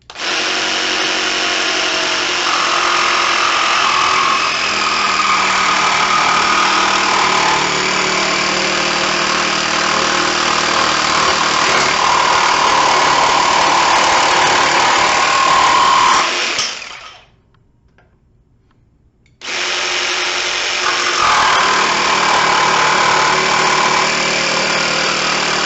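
A Ryobi P5231 jigsaw saws wavy lines and a crosscut through maple, a loud, sustained buzzing whine that runs for about seventeen seconds, drops out briefly, then resumes at full strength.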